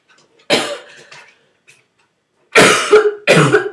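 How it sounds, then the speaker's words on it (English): A woman coughs in bursts: one short cough, a pause, then two loud, harsh coughs in quick succession, close to the microphone in a quiet room. "Oh, I'll edit that coughing out."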